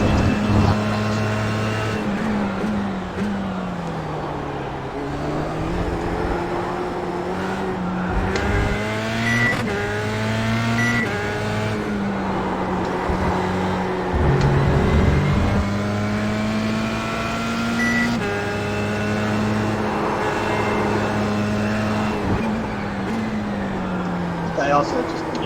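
A race car engine drones on a track, the pitch climbing and dropping repeatedly through gear changes as the car accelerates and brakes, loud and continuous throughout.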